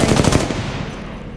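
Rapid automatic gunfire from Apex Legends Mobile rattles in a dense, loud burst of close shots, trailing off slightly toward the end with no talking.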